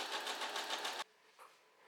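A sewing machine runs a zigzag stitch along raw fabric edges for about a second in a fast, steady whir, then stops, leaving a faint soft tap in the quiet.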